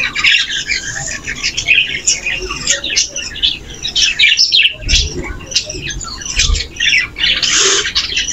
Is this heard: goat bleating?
no